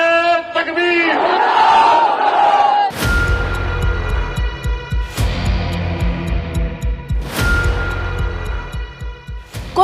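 A packed crowd at an Asaduddin Owaisi rally roars a slogan in unison, answering a leader's shouted call with repeated loud, rhythmic chants and bursts of cheering.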